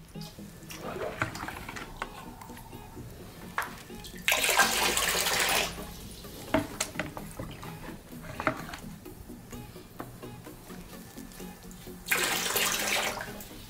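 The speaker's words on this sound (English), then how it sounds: "tank become empty and motor automatically start. And it will keep on filling the tank until the level reaches to the fullest" Water from a motor-driven pump pours into a tank under an automatic level controller, a steady splashing rush that surges louder in two bursts, with clicks and faint voices in the background.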